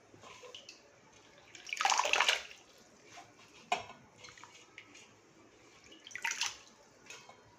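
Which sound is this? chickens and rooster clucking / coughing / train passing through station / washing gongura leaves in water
washing gongura leaves in water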